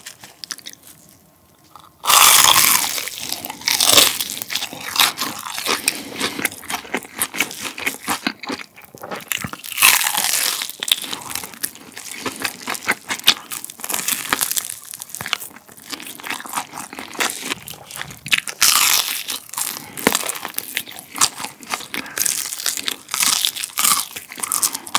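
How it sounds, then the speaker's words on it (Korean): Crispy plain fried chicken from Chicken Plus is bitten and chewed up close. Loud, sharp crunches repeat in an uneven rhythm, with crackling chews between bites, after a brief quiet start and with no talking. "되게 어렸을 때 먹던 바삭 담백한 후라이드 치킨입니다."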